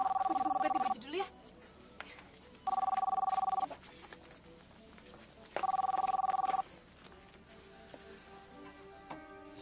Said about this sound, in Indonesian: ada suara telepon